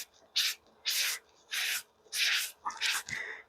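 A sponge eraser scrubs scuffs off a white sneaker in five or six rhythmic back-and-forth strokes, each a close, rasping rub separated by short pauses.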